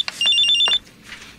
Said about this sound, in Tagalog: Mommy, nag-ringing po ang cellphone nyo.